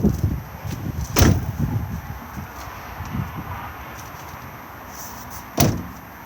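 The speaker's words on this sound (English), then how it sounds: "The way to open these doors further is by pressing just here" An Auto-Sleeper Warwick XL motorhome door is opened outdoors, with two sharp clunks of the door mechanism standing out against a steady low background rumble.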